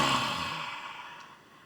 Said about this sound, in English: We're going to breathe everything out.